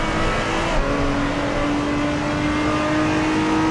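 A race car engine drones steadily at high revs with a sustained, slightly wavering tone, continuous and loud throughout, no voices.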